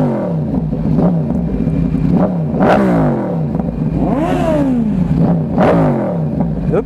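A Yamaha R1 motorcycle with a loud Toce exhaust revs repeatedly while riding in Mumbai, close and loud, with several sharp rising and falling engine sweeps.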